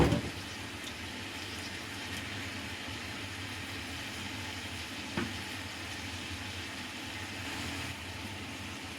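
Green onions and Angus beef short rib sizzle in a hot pan, a steady broad frying hiss with a few soft clinks and stirring knocks, close and continuous with no talking.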